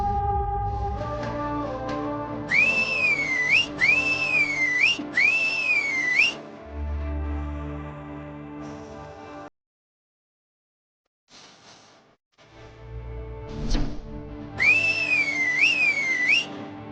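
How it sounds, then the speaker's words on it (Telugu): Someone whistles in a Telugu TV serial scene: bursts of warbling, rising-and-falling whistled notes come early and again near the end, over a musical background, with a short silent gap in the middle. "ఎందుకు విసులు వేశావు?"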